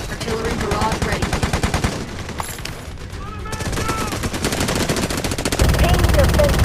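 Rapid bursts of automatic gunfire and explosive artillery barrage fill a military video game battle scene, dense and loud throughout with an even heavier burst near the end.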